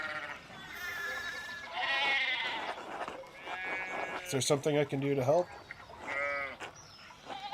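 Sheep bleating on a farm in Pentiment, several wavering bleats that overlap with a voice talking, at moderate distance.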